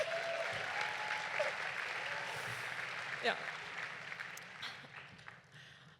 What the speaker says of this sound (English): another round of applause for Dean Ward